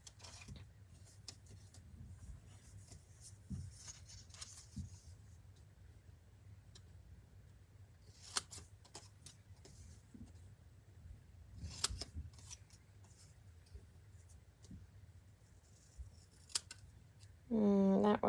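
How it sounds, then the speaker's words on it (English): Sporadic snips of scissors cutting patterned paper, scattered crisp clicks and creaks over a quiet background, with a brief tonal sound near the end. "So I'm just using my trimmer and my scissors."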